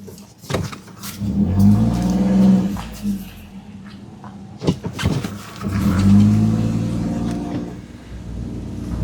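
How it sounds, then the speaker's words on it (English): A 2023 Fiat 500 turns around on a quiet 20 mph road and pulls away, its engine rising in two clear surges of acceleration heard from inside the car, with brief knocks and rustles between. "let me turn the car around"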